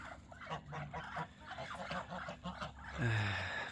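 A flock of geese and other poultry gathers together, with soft overlapping clucks and calls throughout and a louder honk near the end, nearby and outdoors.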